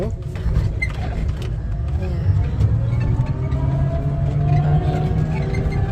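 A car-style electric four-wheeler drives with a steady low rumble and mechanical hum that stays continuous and fairly close throughout, with someone speaking over it.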